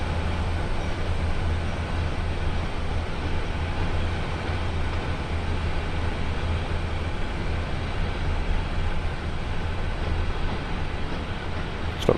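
A long train rolls along the Sand Patch Grade in Train Sim World 2, a steady, loud low rumble and hum of rail running that stays constant throughout with no voices.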